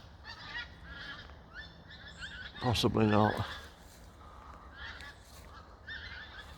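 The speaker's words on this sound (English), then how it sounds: "there's a nice skein of geese going over" A skein of geese flies overhead on a winter walk outdoors, honking in a loud burst for about a second before fading into the distance, while a person speaks briefly nearby.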